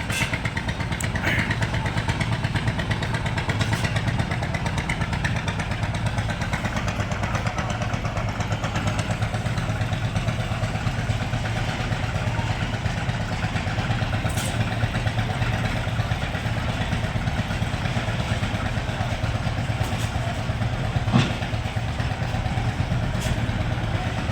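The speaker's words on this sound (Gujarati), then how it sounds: "ચાલો જો ટ્રેક્ટર રિવેશમાં આવે છે મિત્રો" A tractor's engine runs steadily as it reverses, a low rumbling chug that stays constant throughout with faint clatter, while a person talks over it.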